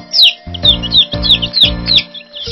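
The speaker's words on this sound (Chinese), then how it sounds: "是小鸡。" A chick cheeps in quick, high, bright bursts, several short peeps in a row, close up over a soft rhythmic background of music.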